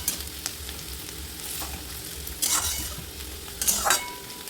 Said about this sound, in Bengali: মিডিয়াম ফ্লেমে 2 থেকে 3 মিনিটের জন্য এইভাবে নাড়াচাড়া করে নেব